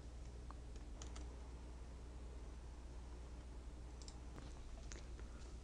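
Sparse keyboard keystrokes as someone enters company registration details in accounting software, a few scattered clicks over a steady low hum and hiss.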